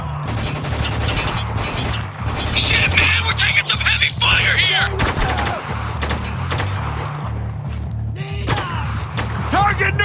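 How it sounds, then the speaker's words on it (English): Heavy bursts of automatic gunfire and single shots crack repeatedly in the Spec Ops: The Line video game, loud and close, mixed with thuds and shouted voices between volleys. "We're taking some heavy fire here!"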